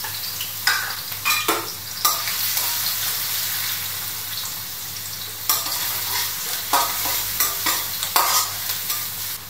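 Garlic frying in vegetable oil in a pan, a steady close sizzle broken by scraping stirs in irregular bursts, with no talk.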